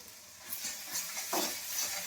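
Spice masala stirred in a hot pan with sugar and dried red chilli for a Bengali egg curry: soft sizzling under a few brief spoon scrapes, close and quiet, with no talking.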